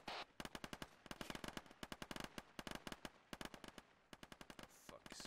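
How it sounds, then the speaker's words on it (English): Gunfire in the military shooter Arma 3 crackles in rapid, sharp bursts close by, with bullets snapping past in quick clusters and brief pauses between volleys. "some fucking bullets are whizzing by"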